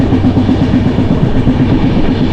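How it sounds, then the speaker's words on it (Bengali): A Shalimar–Secunderabad express passenger train rumbles steadily along the tracks with a continuous heavy roar and a faint rhythmic clatter underneath. "প্রায় ছাব্বিশ ঘন্টা ট্রেন জার্নি করতে চললাম"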